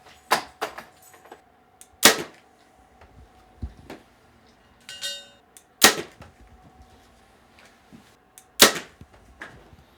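Three sharp, snappy thwacks of a Mathews Lift XD compound bow firing, spaced a few seconds apart, each with a brief twang, over a quiet background with faint ticks.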